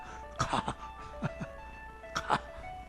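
A mobile phone ringing during a church sermon, its short repeating electronic tone pattern sounding in bursts close by against a quiet room.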